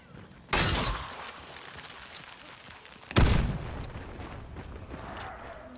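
Two loud, sharp gunshot blasts in the game Hunt: Showdown, a few seconds apart, each followed by a rumbling echoing tail over quiet background noise.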